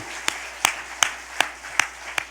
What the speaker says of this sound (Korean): 하나님께 박수 영광